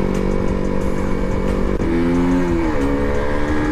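KTM RC390 motorcycle accelerating hard along a rough road, its engine note rising steadily in a continuous loud, close roar with no talk.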